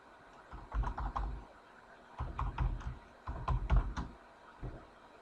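Keystrokes on a computer keyboard as a password is typed, coming in several quick bursts of clicky taps separated by short pauses, fairly close and quiet with no talk over them.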